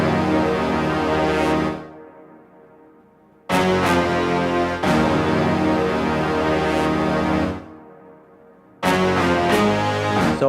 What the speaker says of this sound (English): I like that brass and sax from the Contact library because it gives it like that grit, like that initial hit.